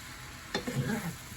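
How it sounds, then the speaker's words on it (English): A vegan burger mixture, seasoned with pepper, sizzles softly in a pan as it is stirred once, giving a brief scrape over a quiet background hiss. "Let's give it a good stir."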